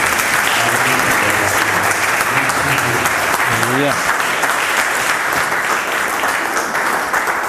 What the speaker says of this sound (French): Laissez-nous applaudir aussi.